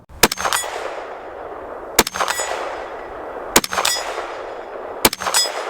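Springfield Armory Hellion 5.56 bullpup rifle firing four spaced single shots, each a sharp loud crack with a ringing metallic tail, evenly spaced about a second and a half apart.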